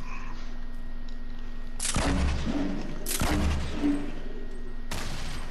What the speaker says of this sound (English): I'm blowing up the whole house because I want to see if there's anybody in there.